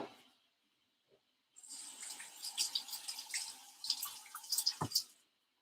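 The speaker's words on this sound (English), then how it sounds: "And just washing my hands." Water runs from a kitchen tap while hands are washed in a sink, a steady splashing gush lasting a few seconds with brief drips, close and moderately loud, starting after a short quiet pause.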